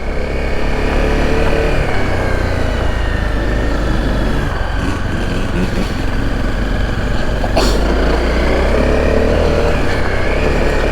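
A Honda CRF250L dual-sport motorcycle ridden off-road, its engine a steady, loud droning rumble that holds throughout with slight revving shifts and a brief sharp knock near the end, no voices.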